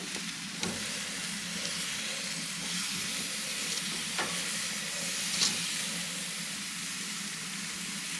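Food fries and sizzles in a pan during home cooking, with a steady, fairly loud crackling hiss and a few sharper pops standing out from it.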